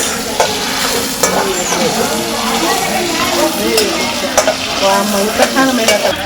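Aloo egg fried rice stir-fried in a pan, with steady sizzling and frying noise throughout and repeated scraping stirs, close and loud, with faint voices in the background.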